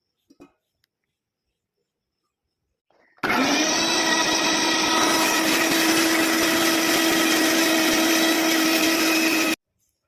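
A mixer grinder grinding garlic and onion whirs loudly and steadily for several seconds after a short pause, then cuts off abruptly.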